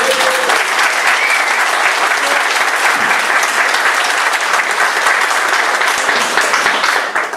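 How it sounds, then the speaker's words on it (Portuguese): Sustained, loud crowd applause fills the air at a town's 50th anniversary festival in Morro da Fumaça, steady dense clapping throughout without a break. "convido a todos um forte salve de palmas e viva a Morro da Fumaça!"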